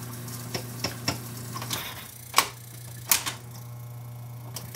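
A Pentron reel-to-reel tape deck struggles on fast forward, giving off scattered mechanical clicks and ticks with a low steady motor hum beneath, the clicks irregular and close.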